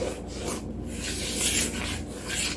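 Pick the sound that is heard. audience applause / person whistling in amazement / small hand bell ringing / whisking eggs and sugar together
whisking eggs and sugar together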